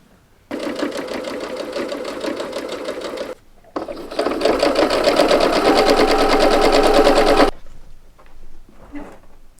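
A sewing machine runs a steady, rapid stitch along a 1 cm seam, loud and close, with a short pause before a longer continuous run that then stops.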